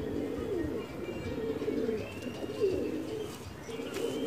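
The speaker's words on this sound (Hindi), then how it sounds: "ये मेरे फेवरेट कबूतरों में से है।" Pet pigeons coo softly on a rooftop, low repeated calls over faint background noise.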